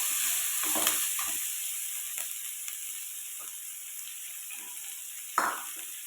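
Four or five garlic cloves sizzle in hot oil in a pan for a chow chow chutney, with steady frying hiss and a few scattered clinks and stirring knocks from a spoon, and no talking.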